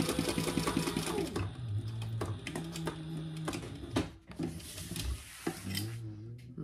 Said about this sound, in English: we're only sewing down to that line we made